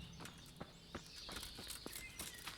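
A horse's hooves clip-clop on the ground in the medieval game Kingdom Come: Deliverance, sounding as a faint, fairly regular series of walking hoof strikes over a quiet outdoor backdrop.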